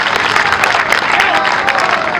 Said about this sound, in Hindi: अरे ऐसी तालियां होनी चाहिए जिसका पूरा शोर ग्वालियर के कोने कोने तक पहुंचे